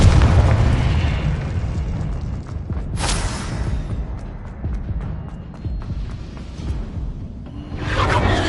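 A Confringo explosive spell from Hogwarts Legacy bursts with a loud booming blast and rushing whoosh, followed by a rumbling tail and a second swell near the end.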